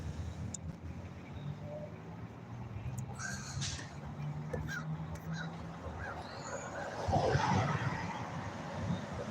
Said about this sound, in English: I hear some of my crow buddies out here.